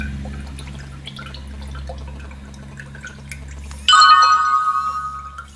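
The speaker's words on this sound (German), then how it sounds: "man hat einen akustischen Ton gehört und das Telefon vibriert jetzt die ganze Zeit" A short bright electronic message alert tone chimes suddenly from a Doro PhoneEasy 612 phone over a low hum and scattered faint ticks, then quickly trails off.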